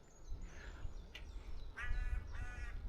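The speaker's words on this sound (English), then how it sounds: "And we're getting a shout out of the crows as well." Crows calling during a ride along Hadrian's Cycleway near Prudhoe, a few harsh caws at moderate distance over low wind rumble, two of them clearer toward the end.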